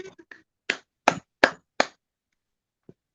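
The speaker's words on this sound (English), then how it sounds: "give Nayma Chamchoun a really big round of applause" Online poetry event where a few unmuted listeners applaud Nayma Chamchoun: a handful of separate, sharp claps or slaps spaced apart, dry and close, with silence between them and one faint knock at the end.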